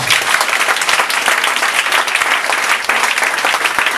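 A church congregation applauds with loud, continuous, dense clapping from many hands that fills the room for the whole stretch.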